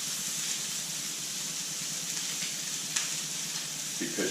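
Pork chops sear in an uncrowded pan, giving a steady close sizzle with a few sharper pops and light scraping near the end, with no talking.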